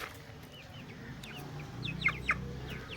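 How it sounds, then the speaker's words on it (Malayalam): Native country chickens kept at home cluck and chirp softly in short bursts over a faint background, quiet and close. "ഇത് നമ്മളെ വീട്ടിലെ നാടൻ കോഴികളാണ്"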